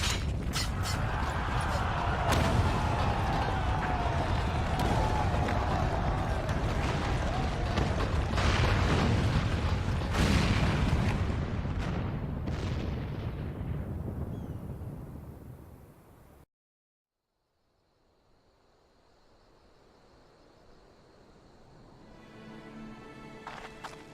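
In Final Fantasy XIV, a cannon booms and a tower collapses in a long, loud rumbling roar with crashing debris that fades out, followed by a quiet stretch and a faint swell of game music.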